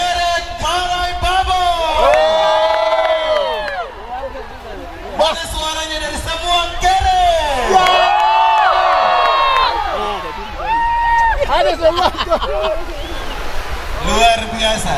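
A festival crowd at the Buyada I Munara gathering in Byak Karon cheers, whoops and shouts loudly and continuously on request, with overlapping voices rising in waves throughout.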